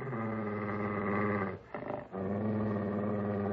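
A dog named Prince growls in a low, steady, sustained rumble that runs continuously, dipping briefly in the middle before resuming, close and with no talk over it.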